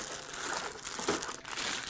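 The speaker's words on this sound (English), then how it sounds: "let's unwrap the AIO." Plastic packaging around a Vetroo Lurker v240 AIO CPU cooler being unwrapped: a close, continuous crinkling and rustling of plastic wrap for about two seconds, with no voices.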